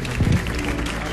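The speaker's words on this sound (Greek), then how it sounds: "Ένα χειροκρότημα για την Τίνα." Audience applause for a guest on a Greek entertainment show, a brief dense wash of clapping mixed with crowd murmur and voices.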